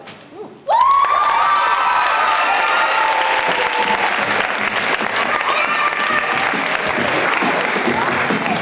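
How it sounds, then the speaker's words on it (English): High school slam poetry audience bursting into loud, sustained applause and cheering with shouts after a poem, a dense crowd roar that starts abruptly and holds steady. "Yes, applaud the poet, Daphne, well done."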